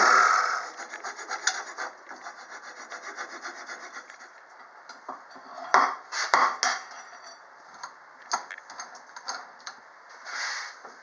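A wood lathe parts off the tenon of a small hollow form, with a steady spinning hiss broken by sharp bursts of tool-on-wood scraping and cutting.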